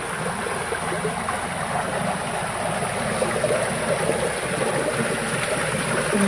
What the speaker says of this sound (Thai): มีน้ำไหลตลอดเลย